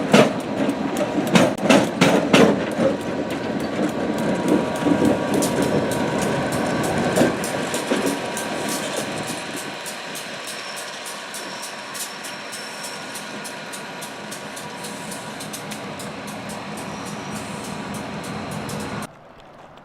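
An excursion train on the Bellefontaine branch in Ohio rolls along with rhythmic wheel clatter and metallic clanks, loud at first and then fading into a steadier, quieter rumble before cutting off.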